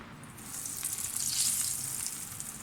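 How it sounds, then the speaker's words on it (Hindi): Chicken and potato cutlets fry in hot oil, giving a steady, bright sizzling hiss that swells slightly and then holds, with no voices. "बस गरम गरम ऑयल में इसको आप डालते जाएं और फ्राई करते जाएं।"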